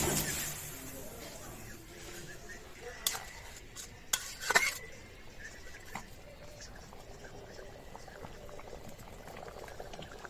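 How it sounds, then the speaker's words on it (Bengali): Fish head and moong dal muriighonto sizzles and bubbles in oil in a pan, with a steady hiss. A few clinks and scrapes of a utensil come in the middle. "এই তেলের উপরে দিয়ে দিব এই মুড়ি ঘন্ট।"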